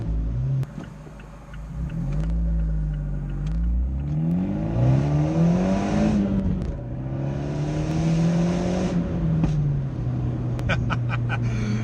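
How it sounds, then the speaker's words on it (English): Abarth 124 Spider with the roof down revving up and down through rising and falling engine notes, with a few sharp crackling pops from the exhaust near the end. "cheeky pop out the back of the exhaust"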